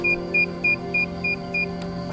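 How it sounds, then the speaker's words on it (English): The low-voltage battery alarm on a Quanum Nova Pro drone sounds as six short, evenly spaced high beeps over a steady motor hum, moderately loud and close. "So you hear the battery voltage alarm here."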